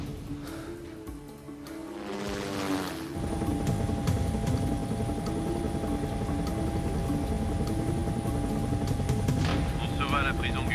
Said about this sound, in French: Prends l'hélicoptère s'il le faut.